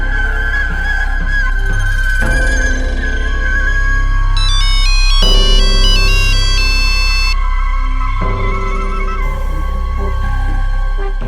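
A phone ringtone during a call plays as a loud, steady electronic melody, with a bright, rapidly repeating chime pattern layered over it midway, continuing without speech.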